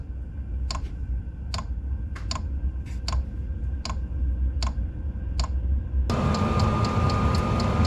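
Fuel injection in a small cabin heater gives sharp, evenly spaced ticks about every half second over a steady low running hum, with the hum and ticking briefly growing louder near the end.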